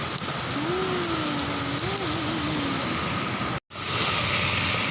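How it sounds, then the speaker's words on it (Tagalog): Heavy rain pouring down on a street near a hotel and ballroom in Pasay, Manila, during flooding: a loud, steady hiss of downpour with a faint tonal whine in the background and a brief drop-out near the end. "Grabing ulan, oh."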